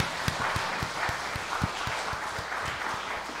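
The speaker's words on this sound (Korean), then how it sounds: "우리 하나님께 영광의 박수 올려드리겠습니다." A congregation claps in applause during a church worship service, a dense, sustained patter of many hands with a few louder individual claps, close and steady.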